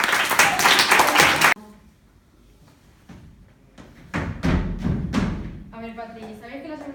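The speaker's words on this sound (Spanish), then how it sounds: "un aplauso." Brief burst of loud clapping at a school mini-theatre performance, cut off abruptly after a second and a half, followed by quieter thumps and voices talking.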